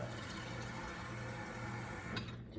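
Water poured into a crumbly dough mixture, a steady close liquid stream running continuously and then cutting off near the end.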